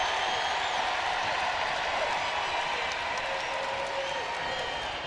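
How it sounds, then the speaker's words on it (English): A dense, steady roar of a large crowd fills an arena at a South Carolina versus Auburn women's college basketball game in Columbia, with a broadcast commentator talking over it. "The crowd gets loud here in Columbia."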